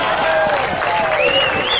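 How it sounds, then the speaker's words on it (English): An audience at a live comedy show at the Botley Hill Farmhouse breaks into a round of applause for a newly engaged audience member, a short burst of crowd clapping and cheering with a whistle and voices mixed in. "Round of applause"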